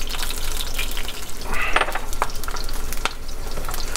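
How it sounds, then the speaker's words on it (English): Garlic and jalapeno toast in a hot pan with a steady, close sizzle and crackle, with occasional scraping stirs and small clinks over the constant frying hiss. "So now we're gonna toast really quick our garlic and jalapeno."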